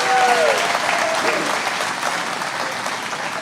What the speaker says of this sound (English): let's give him another big round of applause for taking time out of his busy schedule